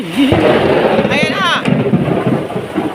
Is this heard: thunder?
yes